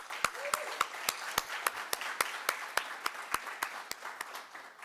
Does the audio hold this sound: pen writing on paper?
no